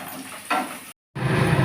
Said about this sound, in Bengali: আলুগুলো অল্প হালকা ভাজা হলেই নামিয়ে নিতে হবে